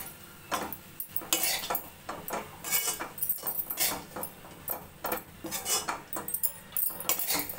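A metal spoon scrapes and clatters in a pan, tossing cabbage and carrot poriyal with grated coconut and coriander in quick, irregular strokes, close and fairly quiet, with no voices.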